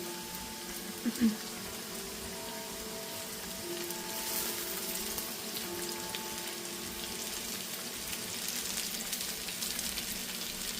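Breaded fish deep frying in hot oil gives a steady, fairly quiet crackling sizzle that runs throughout, with a brief louder pop near the start.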